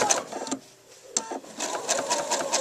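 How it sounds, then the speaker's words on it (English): A PFAFF sewing machine stitches in short mechanical bursts, a close whirring clatter that pauses briefly and then resumes in quick rhythmic runs. "normally when I step on the foot, it brings the foot up at the end"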